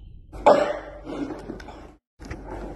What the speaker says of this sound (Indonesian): Sedang batuk saya.